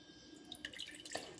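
Quiet, scattered water drips patter in quick succession for a moment, faint and close, with no voices, as water drains from star fruit pieces for pickle in a mesh basket.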